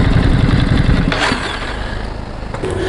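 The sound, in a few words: motorcycle engine running then switched off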